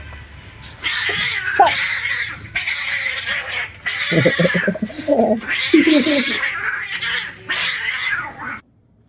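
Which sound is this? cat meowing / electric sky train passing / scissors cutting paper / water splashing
cat meowing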